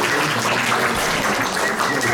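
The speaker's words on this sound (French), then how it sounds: "Gérard Blouin, vous pouvez applaudir," An audience applauds a performer, Gérard Blouin, at the finals of the Rencontres de pays Saint-Brieuc 2019. The clapping is dense and steady, a continuous wash of hands throughout, with no talking.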